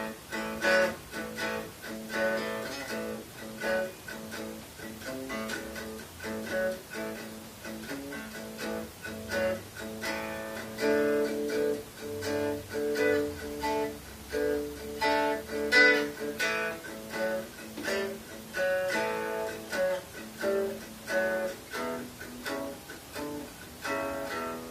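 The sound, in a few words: standard blues lick on Leser 335 style guitar, unplugged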